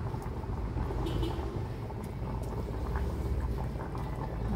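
Mushrooms boil in a pot with a steady, dense bubbling and simmering, close and continuous throughout, with no voices.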